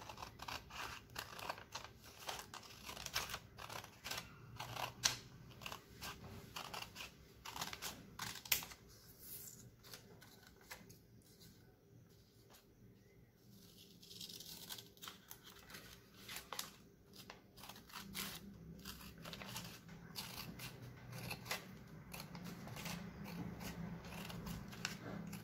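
Scissors snip through a sheet of green A4 paper for a paper flower, giving quiet, irregular crisp cuts and paper rustles close by, with a softer pause in the middle.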